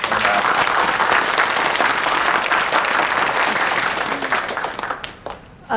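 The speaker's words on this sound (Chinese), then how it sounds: "掌声鼓励一下，来，快！" Sustained applause from an audience at a gathering, dense clapping that holds steady for several seconds before tapering off near the end, loud and close.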